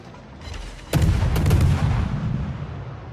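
Destroyer Shimakaze in World of Warships fires its guns, one sudden loud salvo of booming reports after a quiet hum, followed by a rumbling tail that slowly fades.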